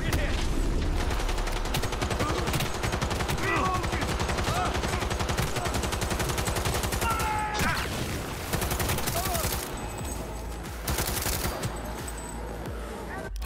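Sustained rapid gunfire in Cyberpunk 2077, dense fusillade bursts running almost continuously at steady loudness, with voices talking over the shooting.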